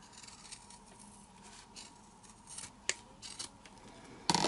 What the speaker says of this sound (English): I'm just going to cut some of that bulk away.